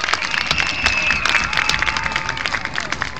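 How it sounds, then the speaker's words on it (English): Stadium audience claps and cheers at a school marching band's football-field performance, a steady wash of applause that holds evenly throughout. "So you might want to give them a round of applause too."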